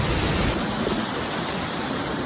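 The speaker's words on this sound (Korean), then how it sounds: "폭포 물이 엄청 세네요" Cheonjiyeon waterfall in Seogwipo, Jeju, roars with a loud, dense, continuous rush of falling water, steady and close with no other sound standing out.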